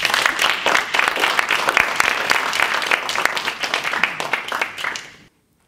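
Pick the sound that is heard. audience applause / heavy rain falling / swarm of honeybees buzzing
audience applause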